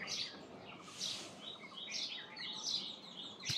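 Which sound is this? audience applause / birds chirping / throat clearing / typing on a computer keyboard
birds chirping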